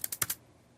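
Four quick keystrokes on a computer keyboard, light close clicks in rapid succession, followed by quiet.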